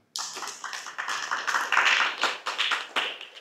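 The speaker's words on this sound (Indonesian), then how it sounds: "Tepuk tangan." An audience claps hands together at a religious study gathering, a dense run of crisp, moderately loud claps lasting a few seconds with uneven bursts and no talk over it.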